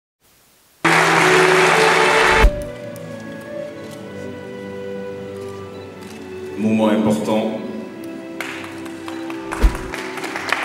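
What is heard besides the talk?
audience applause at a convention signing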